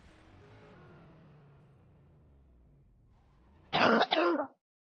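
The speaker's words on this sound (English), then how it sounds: "And now I cough" A single short cough, loud and close, sounding in two quick bursts after a stretch of faint low background murmur.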